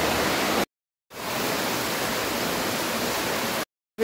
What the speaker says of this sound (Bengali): এর ভেতর দিয়ে জলের ধারা বয়ে যাচ্ছে